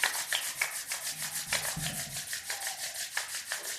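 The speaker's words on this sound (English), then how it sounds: "Begin to rub your palms." Two palms rub briskly together, a fast, even back-and-forth swishing with a soft rasping texture, close and quiet with no voices.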